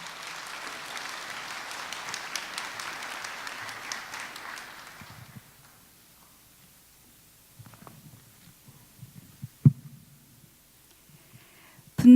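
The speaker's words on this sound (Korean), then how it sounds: "김영희 집사님 박수 한번 해주시길 바랍니다" Church congregation in a Korean worship service applauds, many hands clapping for about five seconds before fading into near silence with faint shuffling and a few soft knocks.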